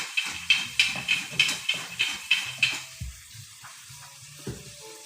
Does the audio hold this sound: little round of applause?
no